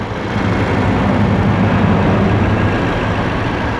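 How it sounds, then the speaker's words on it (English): A Lexus RC 200t's 2-litre turbocharged four-cylinder engine idling steadily nearby, a constant low rumble with a faint high whine, no voices. "There it is, 4-cylinder, 2-liter turbocharged engine."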